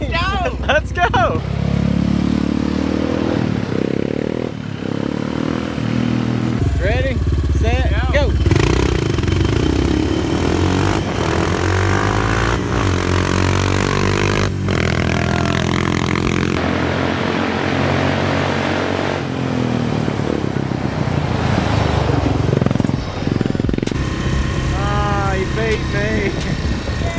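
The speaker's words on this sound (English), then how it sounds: "I bet my four-wheeler's faster than yours" Four-wheeler ATV engines racing around an abandoned house, loud buzzing revs rising and falling with throttle blips and rattling clatter, under excited shouting voices close by.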